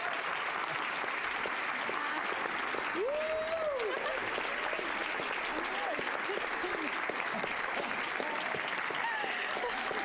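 A studio audience applauds as a mermaid guest comes out on a late-night talk show, with continuous clapping under overlapping voices talking throughout.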